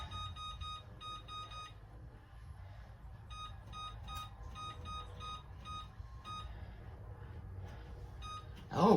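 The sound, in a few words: oven timer beeping as it is set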